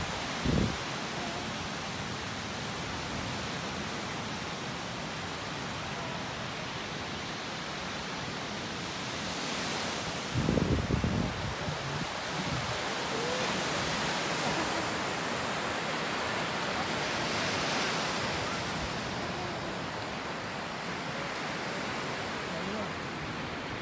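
Steady wash of lake waves rolling onto a beach in Evanston in January, broad and continuous, with a few brief bumps and faint distant voices.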